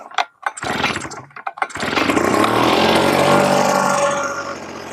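A Yamamax mist blower and duster with a lever throttle is started: a couple of short pull-cord sputters, then the small two-stroke engine catches and settles into a loud, steady, high-pitched running drone.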